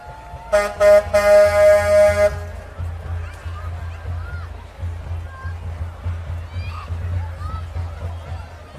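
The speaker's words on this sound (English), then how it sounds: "this is the DPW truck coming up" A Gloucester DPW truck in a decorated parade sounds a loud, steady horn blast lasting about two seconds, followed by a low engine rumble and crowd murmur as a commentator speaks.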